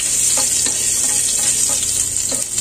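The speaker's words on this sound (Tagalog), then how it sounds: "Ako po, inuuna ko po itong luya. Kula-kulahin ko lang po siya." Sliced ginger frying in a pan for chicken pineapple, a loud steady sizzle with faint stirring clicks and scrapes running throughout.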